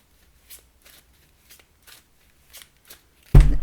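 Black and Gold Tarot cards being handled and shuffled close by, a series of soft, evenly spaced riffling flicks ending in a louder, fuller burst of shuffling.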